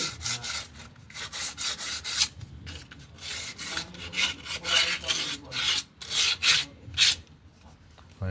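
Cloth rubbing over the body of a Honda Dio BS6 scooter after a service: repeated close, brisk rubbing strokes in an uneven rhythm, each a short scratchy swish, with no talk.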